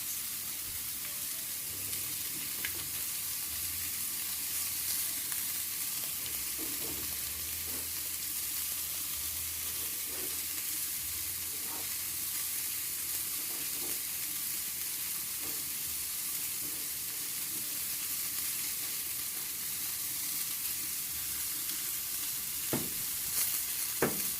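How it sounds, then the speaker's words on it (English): Bean sprouts added to a tofu and quinoa stir fry in a hot pan, a soft continuous sizzle with occasional light stirring clicks and scrapes, quiet and close with no voices. "And finally, I'm going to add the bean sprouts."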